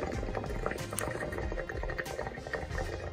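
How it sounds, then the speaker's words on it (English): A hot water heater tank gurgles while draining, air being drawn in: continuous bubbling, burbling water at a steady moderate level with irregular louder glugs, close up, no voices. "we can hear the gurgle. That means that we're still pulling air up here as it drains down at the bottom"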